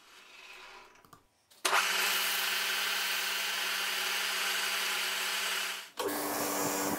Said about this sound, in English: Just doing some cleaning up with a wire brush wheel.